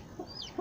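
Newborn chicks of a bearded, muffed breed give a short, faint high chirp between two soft low clucking notes, heard close in a brief moment with no talking.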